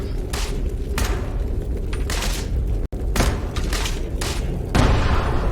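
Grenade explosions and gunfire in the video game Fallout 76 Nuclear Winter, with a run of heavy, close booms at irregular intervals, each with a broad crackling tail, and one brief cut to silence midway.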